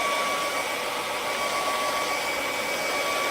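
A hair dryer blows in a steady, loud, unbroken whoosh with a faint whine, drying paint up close.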